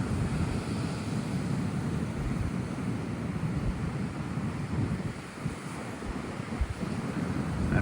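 Strong wind roars across a beach at high tide while surf washes in, a constant loud buffeting with microphone wind noise and no voices.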